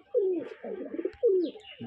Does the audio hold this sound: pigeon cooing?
yes